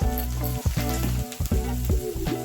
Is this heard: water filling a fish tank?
no